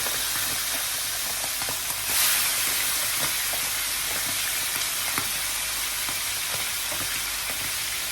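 Pieces of kidney sauté in a hot pan with a loud, steady sizzle, broken by faint clicks of stirring.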